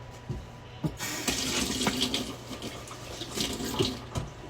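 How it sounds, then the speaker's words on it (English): A kitchen tap runs steadily while hands are washed, with a continuous close hiss of water broken by small splashes and clunks from the sink, and no talk. "Just washed my hands."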